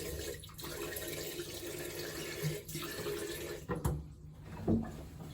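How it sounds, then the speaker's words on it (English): Steady tap water running into a bathroom sink while cleanser is washed off the face, a continuous close rush broken by brief splashes. "Just going to wash that off in the sink."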